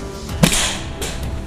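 A PFS forkless slingshot fired once: a sharp snapping crack of the band release followed by a brief hiss, then a softer second snap, all outdoors without speech.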